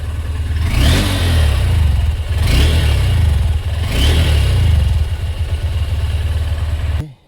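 A Honda NX200 motorcycle with a crash guard and otherwise stock setup revs hard three times in succession, each rise and fall loud and close, before cutting off abruptly at the end.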